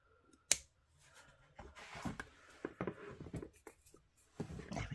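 Scissors snip and trim the edge of a handmade journal cover in a few close, quiet cuts, broken up by faint handling rustles of paper.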